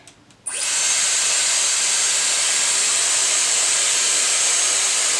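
A Dyson Airwrap hair styler with hair wrapped around its barrel switches on after a brief quiet moment. It then runs with a loud, steady rushing whoosh of hot air that stays constant to the end.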